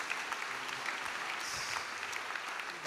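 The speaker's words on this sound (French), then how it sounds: "Est-ce qu'on peut acclamer pour Jésus?" A crowd at a healing service in Martinique applauds and cheers continuously, a dense, steady wash of clapping close by with no talking.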